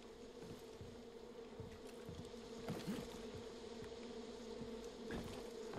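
Bees buzz at an apiary in Far Cry 5, a steady droning hum with a few louder swells as insects pass close, no voices over it.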